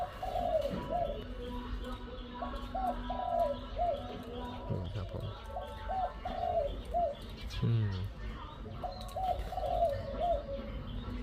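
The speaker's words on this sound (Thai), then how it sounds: "เดี๋ยวไปฟังเสียงขันโยนนะครับ" Repeated soft cooing of a zebra dove (khao chawa) in rhythmic phrases, joined by a few chirps, with a brief murmured voice near the middle.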